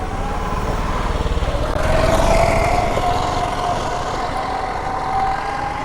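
A vehicle engine is started after fuel is added to it, then settles into a steady running drone that swells briefly before holding a constant idle.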